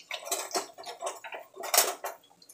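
Teaspoon clinks and scrapes against a bowl or dish in a series of quick, close metallic taps while a dollop of ingredient for chicken fajitas is scooped and added.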